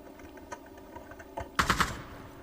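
Gunfire in the video game Ring of Elysium: a tight burst of three or four loud shots near the end, after quieter scattered clicks and faint game noise, with no talk.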